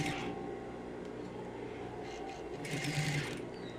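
Sewing machine stitching a circular skirt, a steady close mechanical whirr and rapid needle rattle running continuously throughout.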